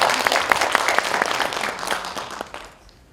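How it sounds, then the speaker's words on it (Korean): Audience applause at a literary festival, a steady broadband patter of many hands that fills the hall and then thins and fades out toward the end. "박수 한번 청해듣겠습니다."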